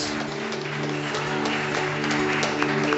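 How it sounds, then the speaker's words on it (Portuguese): A congregation applauding loudly during a Sunday church service, a dense continuous wash of clapping that holds steady throughout, with music or droning tones sustained underneath. "Se você pode, aplauda bem forte o nome do Senhor Jesus"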